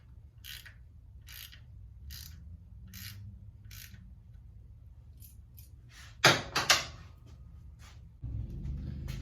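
Threading the primary drain plug back into a Harley-Davidson's primary case, with steady rhythmic metallic ratchet clicks, a few sharp clanks of tools, then a low hum near the end, close up and without speech.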